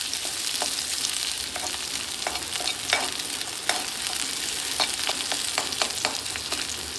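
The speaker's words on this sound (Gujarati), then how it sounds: "આપણે હવે કલર ચેન્જ થાય ત્યાં સુધી આપણે એને મિક્સ કરીશું." Masala for Maggi sizzles in a pan over a low gas flame while being stirred, a steady close hiss broken by scattered light clicks and scrapes, with no talking.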